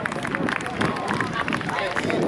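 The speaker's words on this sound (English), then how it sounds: "give it a round of applause for the fife and drums of the American Civil War" An outdoor crowd at a Civil War reenactment fair applauds a fife and drum corps, with a dense, continuous patter of clapping mixed with crowd murmur throughout.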